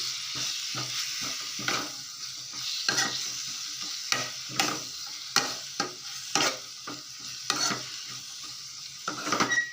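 Punarnava leaves being stirred in a pan for chutney, a continuous sizzle marked by regular sharp scrapes and clinks of the spoon against the pan about once a second, close and clear, with no talking.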